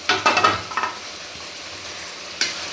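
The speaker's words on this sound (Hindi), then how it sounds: "हमने कढ़ी का जो मसाला बघारा था वो भी इधर फ्राई कर रहे हैं हम" Kadhi spice tempering fries in hot oil, with a cluster of quick stirring scrapes at the start, a quiet sizzle after, and one more scrape near the end.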